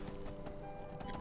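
Horse hooves clip-clop in a quick, even rhythm in The Elder Scrolls V: Skyrim, a faint gallop of sharp repeated strikes with a steady background hum and no talk.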